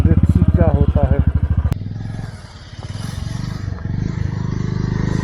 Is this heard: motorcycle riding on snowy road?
yes